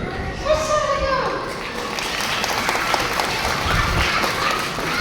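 Continuous clapping from a crowd fills the whole stretch, with children's voices chattering and calling over it at first.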